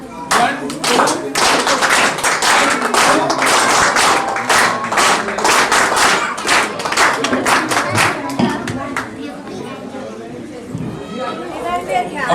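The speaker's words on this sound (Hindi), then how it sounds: "लय में तालियां हो जाती है एक बार" An audience claps together in a steady rhythm at an Uttarakhand community gathering in Gurgaon, loud sharp beats repeating evenly before loosening into scattered claps, with chatter in the room.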